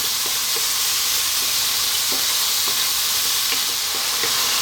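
Ripe tomatoes cook down in a hot pan with a steady, loud sizzle and hiss, punctuated by a few soft scraping stirs of a utensil, with no talking.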